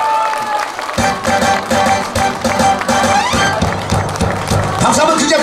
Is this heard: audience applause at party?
yes